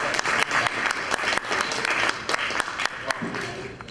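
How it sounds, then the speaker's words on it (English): A room of attendees at a mayoral candidates' forum claps in a loose, uneven round of applause, with distinct individual claps standing out close by and the level swelling and dipping slightly. "nice round of applause for the candidates for city mayor"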